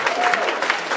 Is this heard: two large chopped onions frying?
no